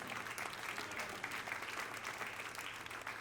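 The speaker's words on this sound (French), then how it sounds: "que tous ceux qui le désirent disent Amen et applaudissent bien fort" Church congregation claps loudly after a call to say amen, a steady wash of applause heard from a distance throughout, with a low hum beneath.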